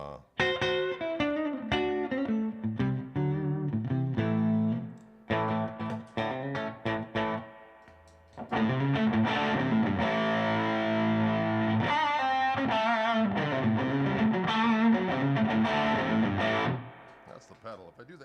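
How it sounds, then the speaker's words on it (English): Electric guitar played through a distortion pedal with an out-of-phase effect, giving phrases of sustained, hollow-sounding notes and chords with short pauses between them, played live and loud close by. "that cool out of phase sound"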